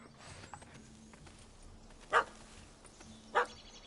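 Two sharp dog barks, spaced about a second apart, over quiet ambient game sound in The Witcher 3: Wild Hunt, Hearts of Stone expansion.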